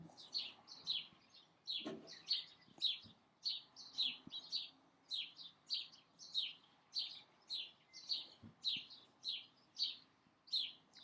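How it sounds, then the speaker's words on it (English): Birds chirp outdoors in New Zealand, repeating the same bright, quick twittering phrase over and over at a steady rhythm, fairly faint and distant, with occasional soft thumps nearby. "The birds are chirping here."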